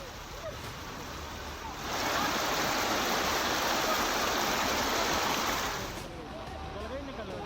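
Fast, heavy flood water rushing past a culvert during heavy monsoon rain, a dense steady roar that swells louder mid-clip before easing back, with no other distinct sounds.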